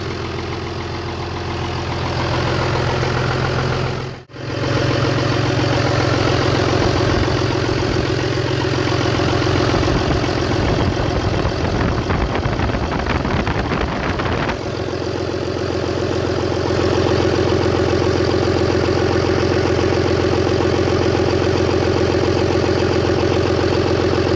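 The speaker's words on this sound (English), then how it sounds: "one more test fire. Well, there it is. It's running." A Cummins 5.9 diesel engine idles steadily after a test fire, a loud, close, low rumble that briefly dips near the start and shifts slightly in tone partway through, with no talking.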